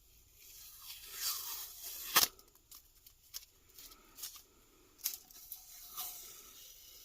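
Tape peels off a glitter mermaid tumbler in short, quiet tearing and crinkling bursts at close range. One sharper rip stands out among scattered smaller strips, with pauses between them and no talk.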